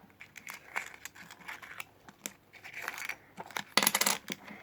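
Plastic surprise egg being opened by hand, quiet crinkling, clicking and snapping of plastic in short bursts, with a louder crackle near the end.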